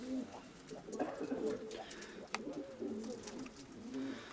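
Domestic pigeons in a loft, including grey, red and yellow birds, give soft, repeated throaty coos that overlap in an unbroken murmur, with small rustles and a sharp tap partway through.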